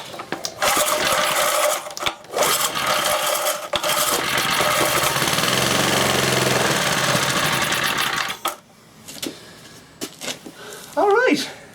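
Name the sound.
Briggs & Stratton 2hp petrol engine running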